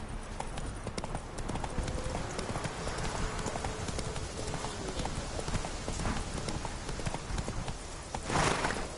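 Roach the horse trotting in The Witcher 3, a steady rapid clip-clop of hooves that continues throughout over an ambient outdoor bed, close and clear, with a brief louder burst near the end.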